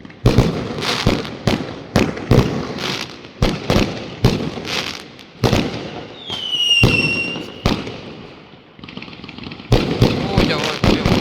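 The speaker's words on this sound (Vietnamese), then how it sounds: "Sau nhà nổ liên tiếp." Chinese New Year's Eve fireworks bursting continuously behind a house, a rapid run of loud, sharp cracks and booms with a whistling rocket partway through and brief gaps between volleys.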